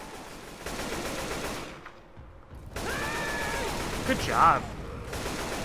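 Gunfire in the video game Left 4 Dead 2 rattles in sustained automatic bursts, pausing briefly before resuming, while players talk over it and game sound effects flare up.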